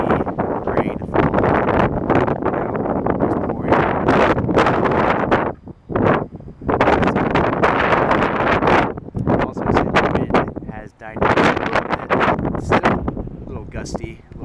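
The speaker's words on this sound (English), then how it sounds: "Dusty, a little windy out here" Wind buffets the microphone in rough, rushing gusts on dusty open ground near an airport, almost continuous with a couple of brief lulls, while a person talks over it.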